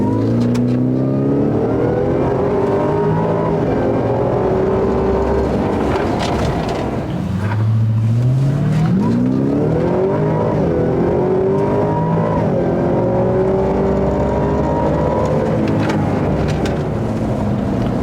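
A supercharged Ford F-150 Raptor R pickup engine accelerates hard, its pitch climbing and dropping as the 10-speed transmission shifts up through several gears, loud and close with wind and road noise.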